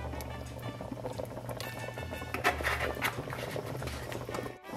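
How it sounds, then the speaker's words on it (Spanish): Spaghetti boils in a pot of water with bay leaves, onion and a splash of oil, giving a steady close bubbling and patter that swells midway and cuts off abruptly near the end. "Aquí lo vamos a dejar hervir."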